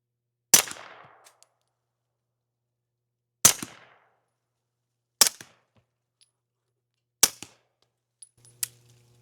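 Four 9mm pistol shots fired through a 3D printed carbon fiber suppressor, two supersonic then two subsonic rounds, each a sharp loud crack with a short decaying tail, spaced a second or two apart, followed by faint clicks.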